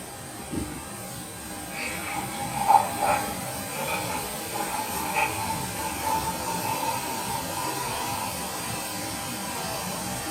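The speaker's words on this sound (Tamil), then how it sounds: "சோடா சேர்க்குறோம்." Plain soda poured into lemon juice with salt, giving a steady broadband fizzing hiss that runs through the whole clip at moderate level, with a few small clinks near the start and no talk.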